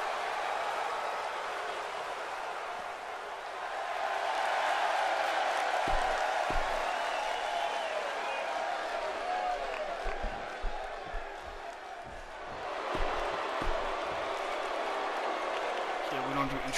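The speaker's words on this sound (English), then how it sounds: "And listen to this San Jose crowd. They are so incredibly passionate about their WWE action." In the WWE 2K18 wrestling game, a San Jose arena crowd cheers and applauds in a broad, steady roar that swells in the middle and again near the end, heard under ongoing commentary.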